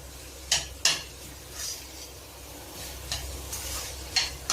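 Vegetables for a spring roll filling get stirred in a pan over high flame, with several sharp scraping strokes against a faint steady sizzle, no talking.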